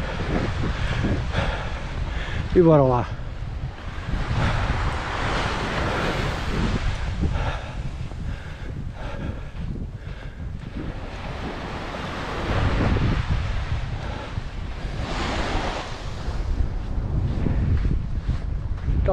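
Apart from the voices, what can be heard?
headwind blowing against the microphone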